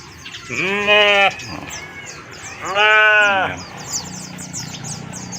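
Two loud, wavering bleats from a nearby sheep in Sagada, Philippines, separated by a short pause, with faint birdsong in the background.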